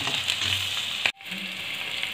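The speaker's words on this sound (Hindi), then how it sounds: "जब तक ये आलू फ्राई हो रहे हैं, इधर धीरे धीरे देखिए फ्राई होना शुरू हो गए हैं" Potatoes frying gently in spiced oil for dum aloo, an even crackling sizzle that cuts out abruptly for a moment, then carries on softer, with no talk.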